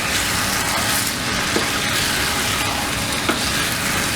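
Chopped capsicum and potato sizzle and spit steadily in a hot pan for a potato curry, a loud, dense frying hiss close by, broken by a couple of soft clinks as the mix is stirred.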